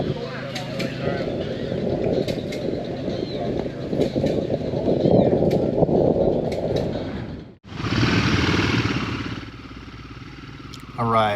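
Brand-new 2025 Royal Enfield Himalayan 450 being ridden at a demo day in Iowa: a steady engine and wind rumble heard from the rider's position, with a brief dropout midway before it resumes.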